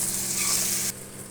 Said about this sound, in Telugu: నూనెలో వంకాయ వేగుతూ ఉంది